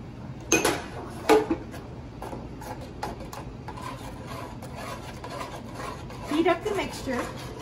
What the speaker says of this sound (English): Heat up the mixture and stir until well combined.